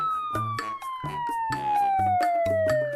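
An ambulance siren wails in one long, slowly falling tone that runs continuously under louder rhythmic beats and bursts of sound.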